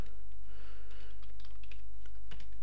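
Computer keyboard typing in quick, uneven bursts of close clicks and key taps, with no talking.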